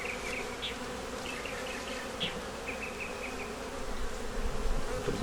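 Honeybees swarm around an open hive with a dense, continuous buzz, close and loud, as individual bees whine past now and then.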